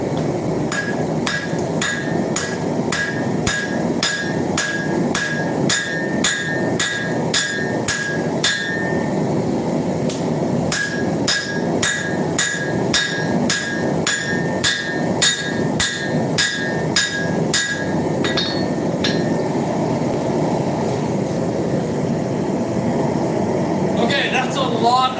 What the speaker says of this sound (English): And we're going back to the power hammer.